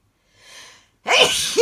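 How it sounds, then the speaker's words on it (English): A single close, loud human sneeze bursts out abruptly after a faint breathy inhale, with a sharp explosive onset and a short trailing exhalation. "I got to sneeze, I think"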